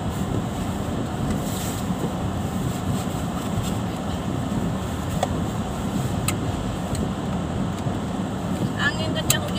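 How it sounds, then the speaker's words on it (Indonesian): A strong windstorm with heavy rain in Germany, a dense continuous roar of wind buffeting the microphone with rumbling gusts throughout, while people talk over it. "Angin kencang, hujan gede, aduh, angin badai."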